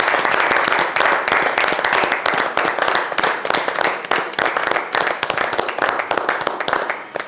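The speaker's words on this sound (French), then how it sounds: "j'aimerais pendant 5 secondes qu'on applaudisse l'artiste qui est" An audience applauds the artist at a tribute broadcast honouring a gospel singer, dense sustained clapping throughout, fairly loud and steady with no speech over it.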